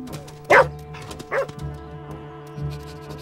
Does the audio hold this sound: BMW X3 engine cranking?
no